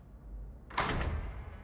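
A door in the Hogwarts Legacy video game swings open during a door puzzle, a single sudden broadband whoosh and thud that rings out over a low background hum and fades over about a second.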